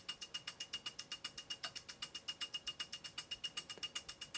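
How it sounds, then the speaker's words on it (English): A film projector reel runs as a background element in a music production, giving a quiet, fast and even mechanical clicking with a steady ratchet-like rhythm and no voices. "I added this projector reel"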